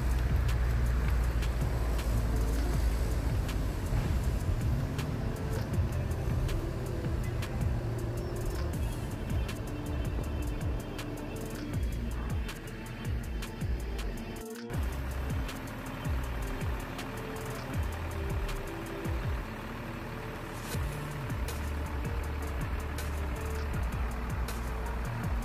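A PT Rapi night bus idles outside the Binaria restaurant before departing for Jambi, its engine rumbling low and steady. Traffic noise and faint beeps are mixed in, and there is a brief thump midway.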